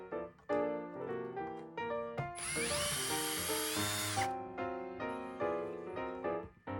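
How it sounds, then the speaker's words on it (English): A power drill whines loudly in bursts, revving up and down as it drills out metal rivets, with one long sustained high-pitched run in the middle. "Just drill them until they are out."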